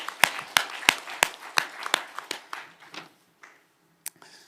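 A church congregation claps together in worship, a loud burst of clapping that quickly thins out and fades to silence, with one last stray clap near the end.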